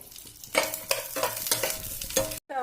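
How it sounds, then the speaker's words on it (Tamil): Powdered nuts fry in a pan for bread halwa, a steady sizzle broken by repeated scraping strokes of a stirring spoon, close and fairly loud with no talking. "நட்ஸை வந்து பொடி பண்ணி வச்சுருக்கிறத நம்ம அதில் போட்டு கொஞ்சம் ஃப்ரை பண்ணி எடுத்துக்கலாம்"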